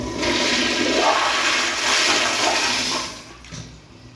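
An American Standard toilet at a nature center flushes in one loud, close rush of swirling water lasting a few seconds, then drains and tapers off to quiet refilling.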